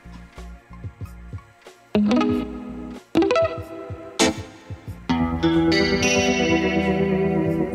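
Guitar one-shot samples from a loaded guitars preset, several distinct plucked and strummed notes with effects, starting as short separate hits and then ringing on as sustained chords with chorus-like shimmer.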